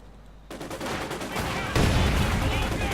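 Sturmgewehr assault rifles firing in the strategy game Company of Heroes 2, a dense stream of gunfire that starts abruptly and swells louder midway, with battle noise layered beneath.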